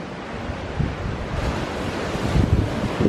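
Ocean surf at Apsarakonda beach near Honnavar, a continuous broadband roar of waves washing ashore with gusty wind buffeting the microphone, fairly loud and close, no voices.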